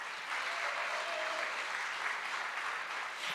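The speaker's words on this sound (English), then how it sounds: "give them a round of applause" Audience applause for Black women entrepreneurs at a women's empowerment event marketplace, a steady wash of clapping that holds at even strength throughout, with no speech over it.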